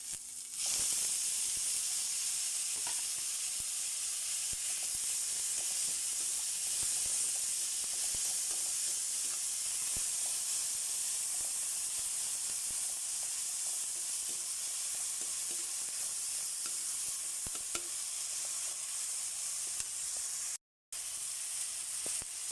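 Tomatoes sizzling in a pan while cooking ginisang monggo, a steady soft frying hiss throughout with a brief break near the end.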